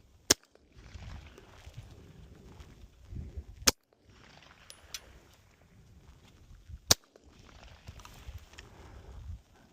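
Three sharp suppressed gunshots from a firearm fitted with a JK Armament 105 CCX suppressor, fired outdoors into the distance, spaced about three seconds apart, each a crisp crack with a short tail over faint background rumble.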